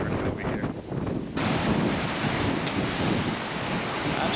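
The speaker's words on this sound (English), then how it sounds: "it looks like the waves are really churning over here" Hurricane Helene storm surf churns and crashes at Madeira Beach while strong wind roars against the microphone, a dense, loud, continuous wash of noise that grows heavier partway through, with no voices.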